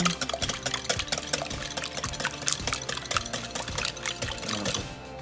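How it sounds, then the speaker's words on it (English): A whisk stirs a teaspoon of vanilla extract into a brunch batter mixture, giving rapid, rhythmic clinking and sloshing strokes against the bowl throughout, close and steady with no talking. "I'm gonna whisk it all in."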